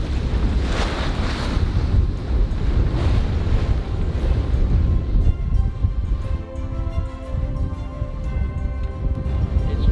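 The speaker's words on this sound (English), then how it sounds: "It's windy, but it's beautiful." Strong wind roars steadily across the microphone over surging waves aboard a sailing boat, a loud continuous rush at sea with faint rigging or hull tones underneath.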